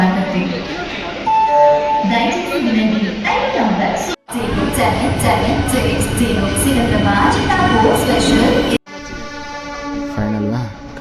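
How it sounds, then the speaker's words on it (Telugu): An MMTS suburban train pulls into a busy station, its steady rumble and rolling rattle filling the platform while people talk nearby and brief electronic tones sound over the din. "మన కాచిగూడకి వెళ్ళవలసిన ఎంఎంటీఎస్ అయితే వచ్చింది"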